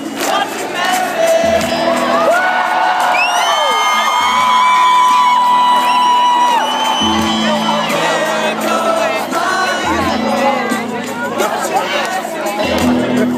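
A concert crowd sings along to a song in a big, sustained chorus of massed voices, with cheers and shouts rising through it and heavy bass pulses underneath.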